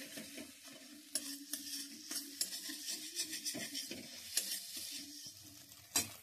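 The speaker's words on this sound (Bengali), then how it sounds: "এইভাবে অনবরত নেড়ে নেড়ে এটা একটা ভুজিয়ার মতো তৈরি করে নিচ্ছি।" Scrambled eggs being stirred constantly in a frying pan: a soft background sizzle with rhythmic scraping strokes and a few sharp clinks of a utensil, close up and without talk.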